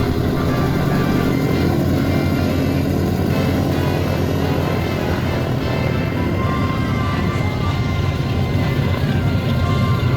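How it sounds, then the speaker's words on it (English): B-29 Superfortress piston engines run in a loud, continuous, dense drone that stays steady throughout with no pauses. "Alright, engines are ready."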